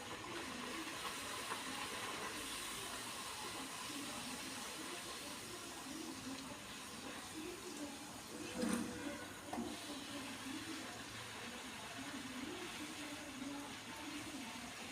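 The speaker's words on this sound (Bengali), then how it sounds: "এবার আমি আস্তে আস্তে কচুরিগুলোকে ভেজে নেব।" Kachoris deep-frying in hot oil give a faint, continuous bubbling hiss. It is quiet and even, with a brief louder burst midway and no speech.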